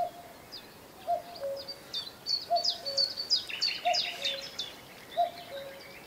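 Common cuckoo calling at Higham Marshes, repeated two-note calls spaced about a second apart, distant and moderate, among a busy chorus of higher chirping songbirds on the marsh.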